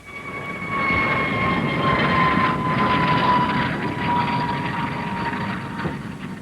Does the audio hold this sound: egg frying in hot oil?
no